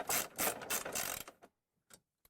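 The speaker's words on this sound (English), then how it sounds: "go ahead and tighten the 2 bolts that hold the arms together" A ratchet clicking rapidly in quick strokes as it tightens the bolts joining the arm halves of an XDX hose reel, close and clear, then a pause with a few faint final clicks.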